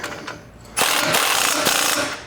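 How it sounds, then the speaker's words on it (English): A ratchet with a 19mm socket tightens the upper control arm nut on a 2019+ Chevy or GMC 1500 during a lift kit install, a loud fast run of metallic clicks close up after a quieter start. "tighten up that nut to the upper control arm with the knuckle"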